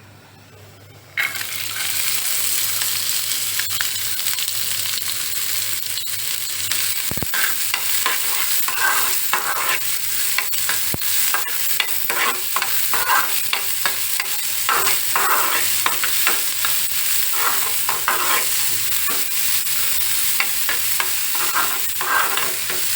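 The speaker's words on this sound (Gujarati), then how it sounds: "આપણી અડદની દાળ ગરમ થઈ ગઈ છે હવે આપણે એમાં ડુંગળી એડ કરીશું" Sliced onion sizzling with urad dal in hot oil in a pan, a loud steady frying hiss that starts suddenly and continues throughout, with occasional stirring scrapes, close up.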